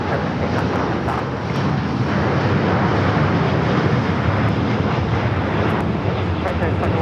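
An airliner taking off at Los Angeles LAX airport, a broad loud roar of jet engines held steady throughout, with wind buffeting and no talking.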